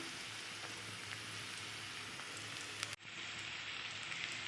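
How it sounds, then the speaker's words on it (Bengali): Steady sizzling of onions frying in a pan, a continuous crackling hiss with a brief interruption partway through. "আমার পেঁয়াজটা ভাজা হয়ে গেছে, এরকম ভাজতে হবে"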